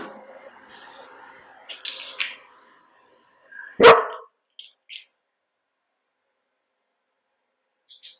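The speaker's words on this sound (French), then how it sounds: "comme elle n'arrête pas d'aboyer" One loud, close dog bark stands out, with a few short softer yips around it and quiet stretches in between.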